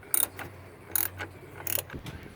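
A ratchet wrench loosens alternator bolts on a 2008 Saturn Vue 3.6, three short bursts of close, rapid clicking separated by brief pauses.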